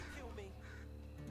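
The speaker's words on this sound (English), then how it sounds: "You can hear the crows in the background." Crows caw in the background of the dark fantasy video game The Blood of Dawnwalker, faint and repeated beneath a steady ambient score and low game atmosphere.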